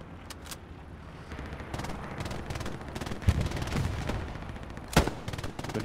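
Sniper rifle shots in a video game: several sharp gunshot cracks spread through the stretch, the loudest two standing out over steady in-game rumble and scattered impacts, with no talk.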